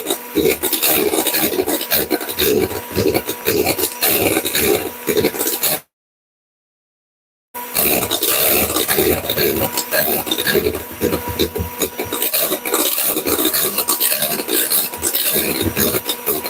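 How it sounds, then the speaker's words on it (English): Mixture being whisked by hand in a bowl until thick during fine dining prep, a fast continuous scraping rasp of the whisk against the bowl, close and loud, broken by one short silence midway. "you keep whisking until it's thick."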